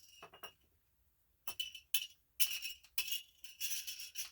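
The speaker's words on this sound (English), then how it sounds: "We've got these 12, poker chips here that we're just gonna" Twelve poker chips being shuffled and mixed around, bursts of bright clinking clatter in irregular clusters separated by short silences, close and fairly quiet.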